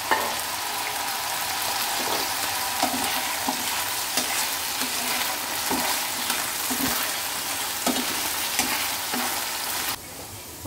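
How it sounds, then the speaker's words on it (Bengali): Diced potatoes fry in hot oil in a wok, giving a loud continuous sizzle broken by regular scraping strokes of a stirring spatula, with no talking. "কড়াইতে অলরেডি তেল গরম আছে, এর মধ্যে আমি দিয়ে দেবো আলুগুলো।"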